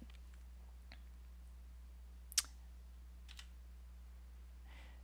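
A few sparse computer mouse clicks on a web page, one sharp click standing out amid faint scattered taps, close but quiet over a steady low electrical hum, with no talking.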